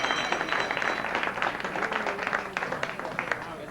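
Studio audience applause for telethon phone volunteers at a 1982 public television auction, a steady patter of many hands clapping at moderate distance with a few voices mixed in.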